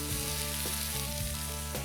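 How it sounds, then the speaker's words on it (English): Red and green bell peppers and purple onions sizzle steadily in a hot pan, a continuous frying crackle with a few soft stirring knocks. "Add red and green bell peppers. We want the sizzle."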